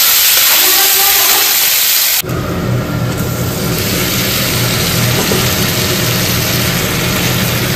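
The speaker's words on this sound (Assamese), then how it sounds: "মাংসটো প্ৰেচাৰ কুকাৰত দি দিম" Meat cooking in a pressure cooker at home gives off a loud, continuous hiss of steam, with a sharp shift partway through before the steady rushing carries on to the end.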